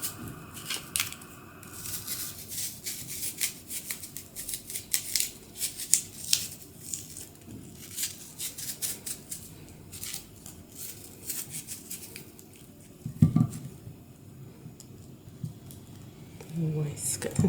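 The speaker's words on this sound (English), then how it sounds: "the Granny Smith. So I'm just going to cut that." A knife cuts a Granny Smith apple with a run of crisp, irregular crunching and slicing clicks, close to the mic, under a voice talking now and then.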